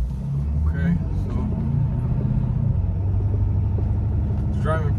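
A Ford F350 dually truck on tuning level five drives along with a steady, loud low engine and road rumble heard from inside the cab, while someone speaks briefly over it.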